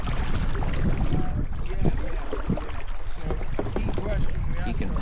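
Kayak paddling in open water near Antarctic ice cliffs at Palavert Point, with irregular paddle splashes and drips over steady wind noise on the microphone, while a person talks intermittently.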